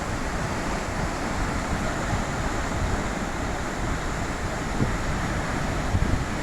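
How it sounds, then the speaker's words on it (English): The Havalem waterfall in Goa, India, a steady, dense roar of falling water that fills the scene continuously and loudly with no breaks. "I'm at this waterfall."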